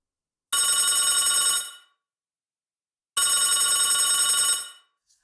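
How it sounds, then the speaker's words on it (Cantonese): A mobile phone rings in two bright electronic bursts of about a second each, separated by a short silence, loud and alone. "大嘴鴨哥哥個手提電話忽然不停咁響"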